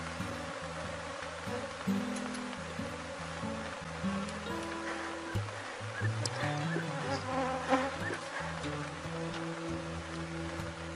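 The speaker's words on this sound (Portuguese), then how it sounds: "Enxames assim, gente, que voa muitas abelhas para todo lado." Swarm of Africanized honeybees flying in all directions around a hive box during a colony split, a dense, continuous buzzing drone. A few louder passes stand out now and then, and no one speaks.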